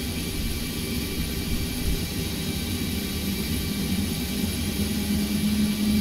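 Airliner jet engines spooling up in a flight simulator game, a steady, loud whirring roar with a constant high whine and a low rumble throughout.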